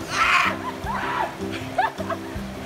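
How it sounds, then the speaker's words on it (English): Several people splash in a cold creek while swimming, with bursts of churning water and bright splatters over a low rhythmic music bed, with faint voices and laughter mixed in. "we're swimming in the creek"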